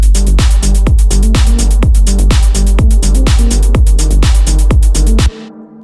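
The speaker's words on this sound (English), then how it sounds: "And then we bring in bass and kicks" Punchy four-on-the-floor techno kick drums thump at a steady tempo with a deep bassline underneath, loud and continuous, then cut off abruptly.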